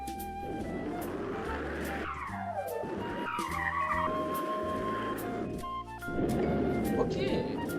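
Racing video game car brakes hard and skids, tires squealing in a long rising and falling screech over steady engine drone, while a player talks over it.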